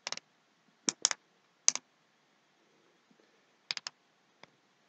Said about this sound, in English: Shoulders are more ratchety than the green. I don't know if you can hear that click